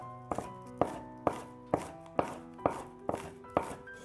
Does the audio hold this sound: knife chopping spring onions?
yes